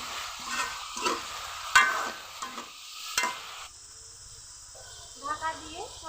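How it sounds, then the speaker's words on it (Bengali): Winter vegetables seasoned with salt, turmeric and a little chili powder fry and get stirred in a pan, giving a soft sizzle broken by scraping stirs near the start, while a voice talks in between. "সবজিগুলো ভালো করে ভেজে নেব।"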